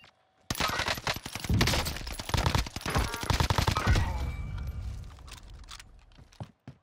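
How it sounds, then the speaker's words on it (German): Bursts of rapid automatic gunfire in the Warzone video game, loud, dense volleys of shots that crackle for several seconds and then fade into scattered echoes and a few isolated pops. "Links von mir wird geschossen."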